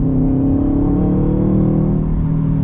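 A Subaru WRX STI engine roars steadily as it accelerates, a loud, close, continuous drone with no talking.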